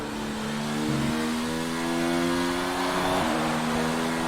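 A Formula 1 car in F1 2019 on the Japanese Grand Prix circuit, its engine holding a steady high drone at part throttle with a gear shift partway through, loud and close with no talk.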